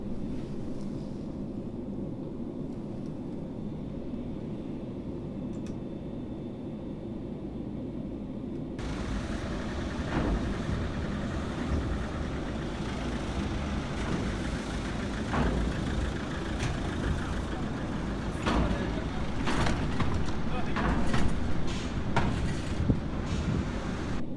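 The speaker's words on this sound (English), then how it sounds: "I've just got to get the van off, the car off the boat here" A car drives off a ferry boat at the Isle of Wight. A steady engine rumble mixes with wind buffeting, and the sound grows louder and rougher about a third of the way through.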